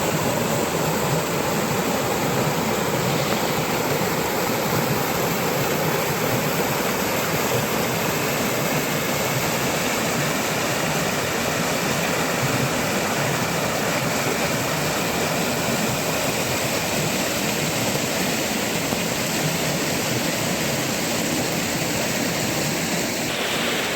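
Machha Kandana waterfall in Similipal, Mayurbhanj, pours as a loud, constant roaring rush of water that stays dense and unbroken with no pauses.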